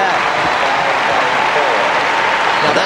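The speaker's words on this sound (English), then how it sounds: "And the crowd is booing." Arena crowd at a 1990 Goodwill Games ice dancing free dance, a dense continuous roar of booing, cheering and clapping from many spectators, loud and unbroken.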